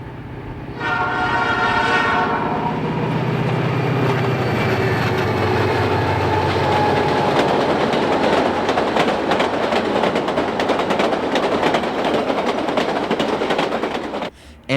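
A coal freight train hauling 6,500 tons slowly crosses a high steel bridge over Hurricane Gulch on the Alaska Railroad, with a horn sounding early on. Loud, steady rumbling and clattering of the wagons follows alone.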